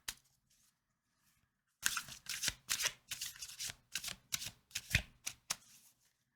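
Oracle and tarot cards shuffled by hand, a close, crisp run of rapid riffling snaps and flutters following a brief tap and a short pause.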